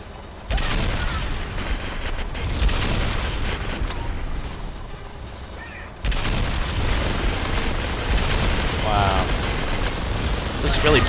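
A tank fires in the Metal Arms: Glitch in the System video game, heavy booming blasts filling the clip with dense rumbling noise, with a sudden loud onset early on and another surge partway through.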